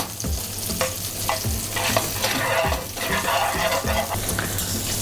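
Guanciale frying in its own rendered fat in a pan for carbonara, a steady close sizzle with scraping stirs throughout, no talking.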